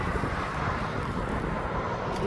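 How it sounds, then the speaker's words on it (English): Jet2.com aircraft at East Midlands Airport, heard as a continuous broadband engine roar with wind rumble, steady and fairly loud throughout. "There is a Jet2.com livery aircraft coming up behind"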